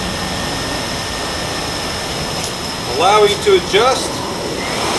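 A Blade 350 QX quadcopter drone's motors run at 60% throttle as it struggles to lift off the floor, a steady whine joined by rising and falling pitch sweeps, with someone talking over it.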